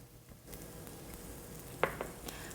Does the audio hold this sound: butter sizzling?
yes